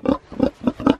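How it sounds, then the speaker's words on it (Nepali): A black pig at a rural homestead in Nepal grunts four times in a steady rhythm, close and fairly loud, with brief pauses between each low snort. "सुनवार सुँगुर छ यहाँनिर मिस्टर पिगी हो कि मिस पिगी हो थाहा छैन"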